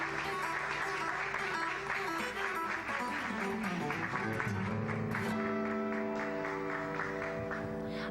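Applause from an audience at a regional school quiz competition, a sustained, moderately distant patter of clapping mixed with background music and murmuring voices.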